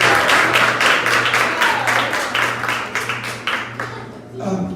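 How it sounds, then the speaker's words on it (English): A crowd at a girls' basketball banquet applauds, a loud and steady wash of clapping that gradually thins out and then fades near the end, with a low steady hum underneath. "So give yourself a round of applause."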